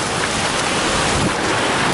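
Ocean waves rolling onto a Pacific Ocean beach, a steady loud broadband wash of surf mixed with wind buffeting the microphone, continuous throughout with no talking.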